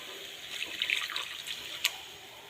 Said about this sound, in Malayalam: ഇനി ഇതിലേക്ക് കുറച്ച് വെള്ളം ചേർക്കാം.